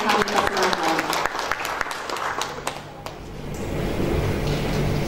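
An audience at a university parents' gathering, held by the economics faculty, claps for an arriving speaker. The applause is dense and sustained for about five seconds and thins slightly midway, with faint voices mixed in.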